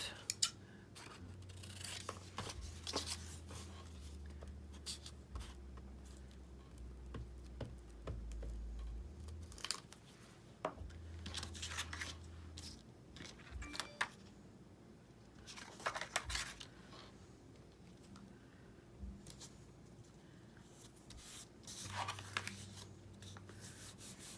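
Scissors snip through paper cards cut from a 365-day desktop calendar, a faint, close series of crisp cuts and paper rustles at irregular intervals in a quiet room, with no talking.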